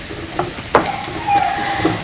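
Two finely chopped onions sizzle in a pan for a Spanish omelette. A brief close crackling fry carries a sharp clink of a spoon partway through.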